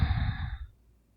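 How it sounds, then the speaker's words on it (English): A single slow, steady exhale in a box-breathing exercise, a soft breathy sigh up close that fades out after about half a second into quiet. "gently and slowly allow the breath out"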